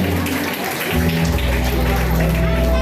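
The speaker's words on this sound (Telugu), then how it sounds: "అందరూ చప్పట్లు కొట్టడం గట్టిగా హల్లెలూయా" A church congregation claps loudly throughout, a steady, dense, rain-like patter at a dedication festival in Rayachoti, with sustained music or singing tones running underneath.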